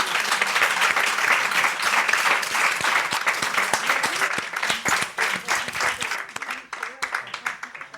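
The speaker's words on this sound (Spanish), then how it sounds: "os pido un fuerte aplauso para todos ellos" A seminar audience breaks into sustained applause for the speakers, dense clapping that thins and tapers off toward the end.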